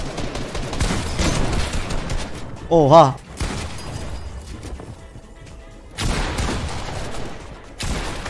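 Shotgun fire in the Fortnite Zone Wars game mode: a loud, sharp burst of blasts near the middle, with a player talking over the game sounds before and after.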